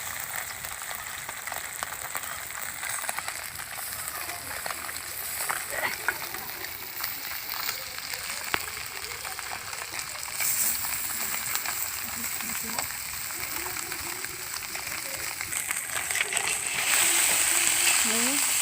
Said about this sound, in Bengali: এরকমভাবে আমি সব মাছগুলো ছেড়ে দিচ্ছি সব পুঁটি মাছগুলো